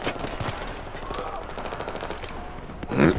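Gunfire in Battlefield 3 co-op play, a dense, continuous rattle of automatic weapons and shots throughout, with a louder burst near the end.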